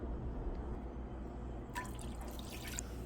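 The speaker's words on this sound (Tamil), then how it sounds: "ஸோ நான் 1/2 டம்ளர் இதில் ஆட் பண்ணிக்கிறேங்க தண்ணி." Water is poured into a pot while making jaggery rava kesari, a steady splashing trickle that runs continuously and grows brighter partway through, close and alone without talk.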